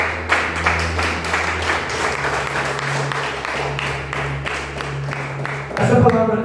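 A church congregation applauds steadily, a dense wash of clapping that carries on for several seconds beneath a low held musical tone before fading into louder voices.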